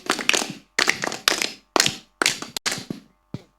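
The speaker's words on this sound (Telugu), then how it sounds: "క్లాప్స్ కొట్టండి" Sunday School children clap in short bursts after a correct Bible quiz answer, about seven separate rounds of hand claps, close and fairly loud with brief silences between them.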